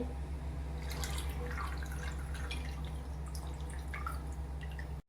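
Steady dripping and trickling tamarind soaking water, a soft continuous pour into a vessel over a low constant hum, with no talking.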